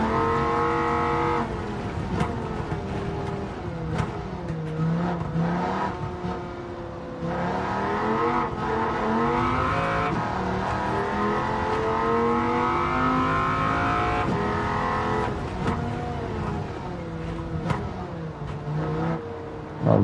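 In Gran Turismo 7, a rear-wheel-drive race car engine revs steadily for about twenty seconds, climbing and dropping through gear changes in a loud, continuous drone with no talk over it.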